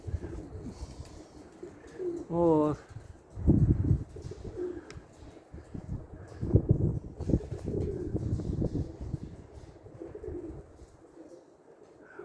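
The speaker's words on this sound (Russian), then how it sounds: "Значит, сейчас голубья сядут" Pigeons cooing and calling outdoors during a flock release in a gale-force wind, with a brief warbling coo standing out, wind rumble underneath and someone speaking briefly.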